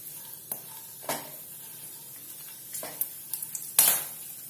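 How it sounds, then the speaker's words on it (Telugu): Something frying in a pan for mutter paneer, with a soft sizzle beneath a handful of separate spatula scrapes and clinks, close by. "కొంచెం ఫ్రై చేసుకుందాం."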